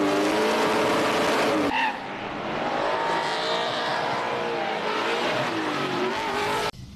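A 1966 Ford Mustang Fastback in Assetto Corsa drifts down a mountain touge road, its engine roaring loud and close with rising and falling revs, a brief tire squeal near the second mark, then a sharp cut at the end.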